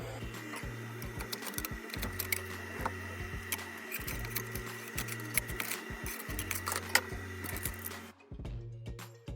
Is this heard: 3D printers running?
yes